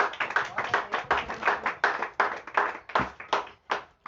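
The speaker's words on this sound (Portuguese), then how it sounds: "Palmas bem alegres para Jesus, igreja" Church congregation clapping in worship, a strong regular rhythm of sharp hand claps in unison, close and lively, beating steadily about three times per second without talk.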